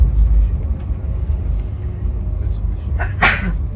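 A single sharp sneeze bursts out near the end over a steady low rumble of a moving tour vehicle in Portugal's Douro Valley.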